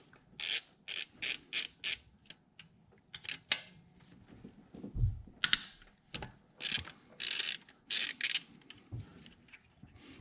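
A ratchet loosens intake manifold bolts on a 2001 Infiniti QX4, sounding as bursts of quick sharp clicks in rapid strokes with short pauses between them, close and clear in a quiet work space.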